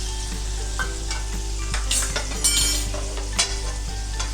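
Bananas and sweet potatoes fry in a pan for undhiyu, a loud continuous sizzle overlaid by irregular scraping and clacking from stirring, close by with no voices.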